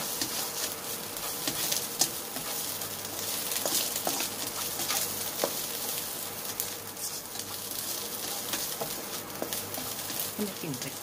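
Pork belly seasoning stir-fried in a pan, a steady close sizzle with scraping and stirring clatter throughout, under someone speaking.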